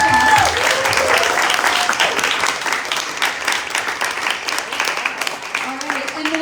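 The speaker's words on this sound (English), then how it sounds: "So let's give them a round of applause." Audience applause after contestants finish pitching at a pitch-and-brew competition event, a dense steady clapping crowd lasting several seconds, loud and close, with a brief voice at the very start.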